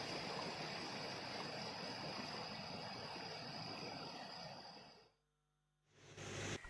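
Floodwater rushes during the Assam floods as a dense, steady broadband roar of flowing water, loud and continuous, cutting out briefly near the end before resuming.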